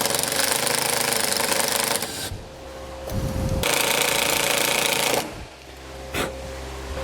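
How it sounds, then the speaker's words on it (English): Power driver sinking self-tapping screws into a plastic piece while mounting a breaker for a Roadmaster battery charge line kit on a towed vehicle; loud, close bursts of whirring drive in two long runs and a short one, with no talk. "I'll grab the included self-tapping screws and secure that down."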